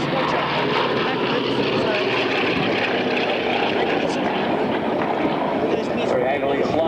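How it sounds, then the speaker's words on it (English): A former RAAF propeller aircraft flying at an airshow, its engine producing a loud, steady droning roar that holds throughout. "Nostalgic history to see a former RAAF aircraft in its colour scheme being operated here today"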